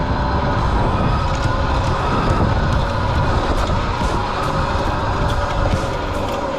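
A Bomb Moto B1 72V electric pit bike ridden hard over dirt terrain, with a loud, continuous rushing roar of wind, tire and drivetrain noise, steady and close throughout.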